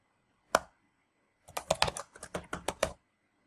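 Someone types a new password on a computer keyboard: one isolated keystroke, a pause, then a quick burst of about ten close, crisp key clicks.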